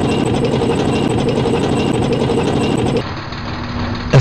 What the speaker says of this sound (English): Using common lubricant, engine is always noisy.